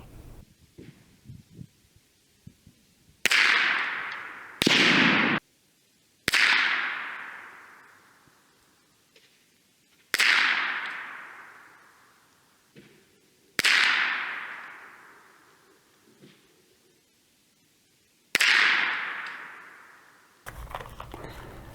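Six sharp .22 rifle reports from a Remington 581 firing Remington Thunderbolt ammunition, spaced a few seconds apart, each a loud crack with a ringing decay, with faint handling noise between shots.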